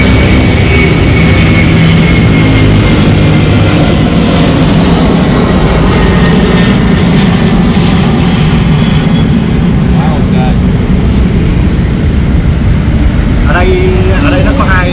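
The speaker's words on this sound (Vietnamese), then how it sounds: "hai cái tiếng ồn đặc trưng, đó là tiếng ồn máy bay" Loud, steady airplane roar passing overhead above a roadside sidewalk in Vietnam, a broad rumbling wash of engine noise that fills the whole stretch, with voices murmuring underneath.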